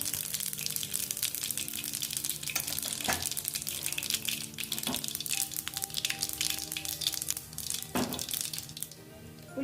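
Mustard seeds and cumin crackle and sputter in hot oil, a dense, hissing fry with scattered sharper pops, steady and fairly quiet with no one speaking.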